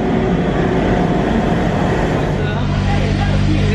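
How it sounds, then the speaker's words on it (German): Interior of an old regional train in North Rhine-Westphalia, with a steady, loud rumble of rolling wheels and carriage noise throughout, joined by a low droning hum near the end. "Wir sind gerade in so einem alten Zug drin."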